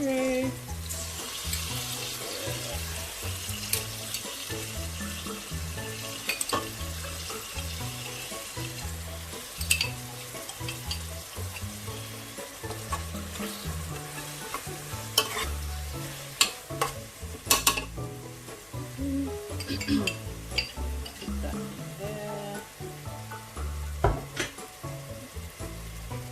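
Chili fried and stirred in a pan of Nigerian spinach stew (efo riro), a continuous close sizzle under repeated scraping, clattering stirs over nearly half a minute, with sharp knocks now and then.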